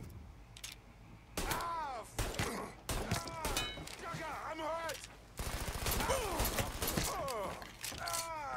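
Blind gunfire in Mafia 3: dense volleys of shots rattle out in repeated loud bursts, mixed with shouted and groaning voices from the game's characters.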